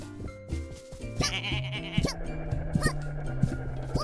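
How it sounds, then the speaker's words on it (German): Sheep in a video game bleating several times in short wavering cries, moderately close, over a light game music backdrop with no speech. "Ach, da hinten ist das Schaf."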